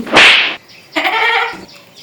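A person mimics a goat's bleat with their voice during a low-budget quiz game show: a harsh, noisy first burst, then a longer, wavering, voiced bleat, both loud and close.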